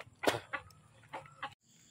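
A red chicken clucks a few short times nearby, soft and uneven, then falls quiet.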